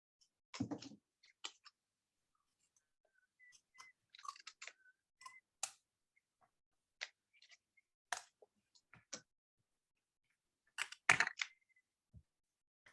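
A child cuts card paper along a drawn pencil line while making a Father's Day card, giving sparse, crisp snips and paper rustles spread through an otherwise quiet room.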